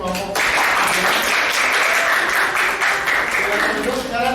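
Classroom applause for a student group after its presentation, a burst of clapping that starts abruptly and carries on steadily for several seconds, with voices mixed in underneath.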